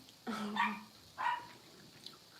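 Two short barks from a dog, faint and somewhat distant, in an otherwise quiet room.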